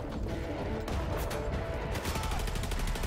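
Dense gunfire from the S.T.A.L.K.E.R. 2 video game trailer, a continuous barrage of rapid shots and bursts with crashes, loud and sustained over a thick layer of score and effects.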